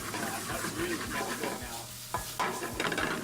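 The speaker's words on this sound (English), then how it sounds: "then it gets deglazed with just a little bit of lemon juice" A hot pan deglazed with a splash of lemon juice hisses and crackles while a utensil stirs it, with a few louder scraping swipes over a continuous sizzle, close by and without speech.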